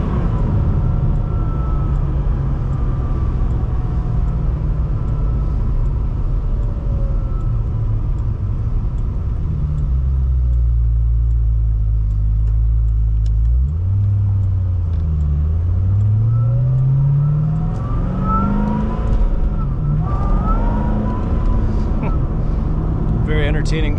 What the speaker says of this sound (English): You can hear the supercharger whining as I blip to shift.